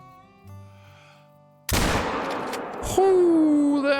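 A rifle shot fired while hunting a whitetail deer in the Call of the Wild hunting game cracks out sharply and loudly after a quiet stretch of ambient tones, followed by a lingering echo and then a second burst and a rising tone.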